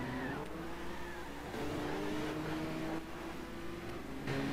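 A Honda NSX engine cruising in Gran Turismo 6 gives a continuous steady hum with slight shifts in pitch, moderately loud and unbroken, with no talking.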